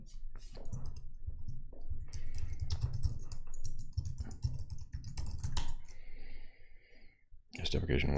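Computer keyboard typing during a Django and Wagtail web development session, with quick irregular key clicks in bursts under a steady low background hum, trailing off near the end.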